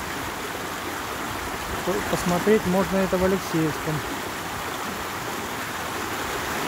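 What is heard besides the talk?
mountain stream flowing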